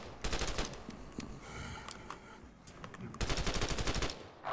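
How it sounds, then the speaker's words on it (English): Bursts of fully automatic M4 rifle fire in The Last Stand: Aftermath, rapid cracking volleys that pause briefly before another sustained burst. "I'm pretty sure the M4 is fully automatic"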